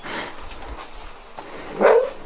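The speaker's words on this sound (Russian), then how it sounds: "это не радостный лай, это скорее охранный лай." A fox gives a single short guarding bark near the end, moderately loud against a quiet, faintly rustling background.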